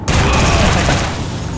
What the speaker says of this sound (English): Oh, that was a grenade.